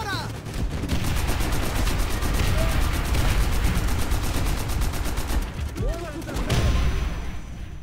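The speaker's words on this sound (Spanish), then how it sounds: "¡Ametralladora!" Machine gun fire in Call of Duty: World at War, a sustained rapid automatic burst of several seconds, loud and dense, with shouting voices over the battle noise.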